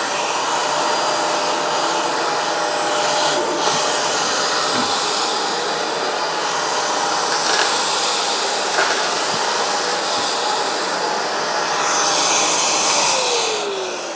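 A Vacmaster Respira Lift Off Pet bagless vacuum cleaner runs on a carpet rug, a loud continuous motor whine and suction rush with slight swells and small bumps, no voices.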